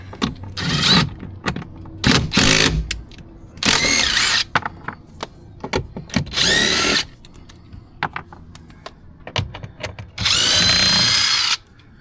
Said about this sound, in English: So you need a T25 Torx. There's 3 screws here.